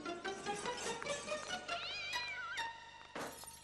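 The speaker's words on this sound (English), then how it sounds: "They're not beasts, Madame Rottenmeier. They're just kittens." Kittens meow in a house, several high, bending cries in quick succession, close and clear, with a brief clatter or rustle between them.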